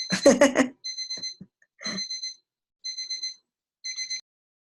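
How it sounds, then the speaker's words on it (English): An alarm clock goes off in a series of bright repeated beeping bursts, four short clusters spaced evenly, loud and close, after a brief burst of speech at the start. "Now the alarm is going off."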